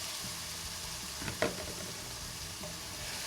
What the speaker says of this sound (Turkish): Ve hepsini böyle bir dakika kadar bu şekilde kavuruyorum.